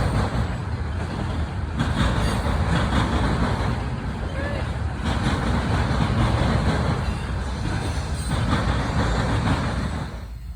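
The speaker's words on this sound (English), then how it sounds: "CSX M630 would come speeding north on the CSX Toledo sub en route to Walbridge, Ohio." A CSX freight train, the M630, speeds north along the Toledo subdivision in Fostoria, Ohio, as a dense, steady rumble and roar that holds loud and close for the whole stretch.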